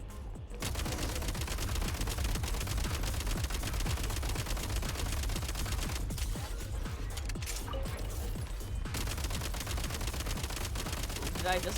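Gunfire in Genshin Impact comes in rapid, dense bursts of shots that run almost continuously for several seconds, loud and close, mixed with game effects and a voice speaking now and then.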